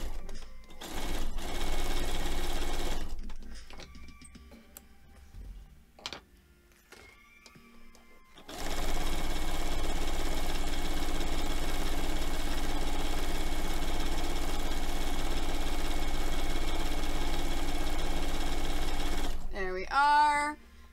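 Sewing machine stitching quilt sashing, a steady close mechanical whirring hum in bursts, with stops between and a voice talking briefly at the start.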